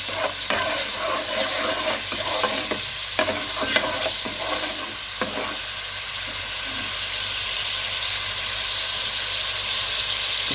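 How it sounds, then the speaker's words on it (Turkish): Tomato paste sautéing in a pan for a winter soup with leeks, giving a steady close sizzle and hiss with occasional stirring scrapes throughout, no talking. "Arkadaşlar salçamız kavruluyor."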